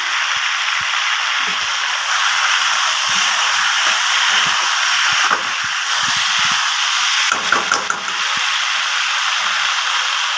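Chilli soybeans frying in a pan, a constant broad sizzle and hiss with faint crackles, sporadic clinks of stirring, steady and close throughout with no talking.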